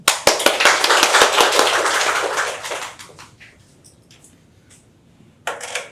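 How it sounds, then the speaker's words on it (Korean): Loud, dense applause from an audience at a webtoon industry talk for about three seconds, fading into a quiet room with a few scattered claps, then a brief burst returns. "그러면 박수"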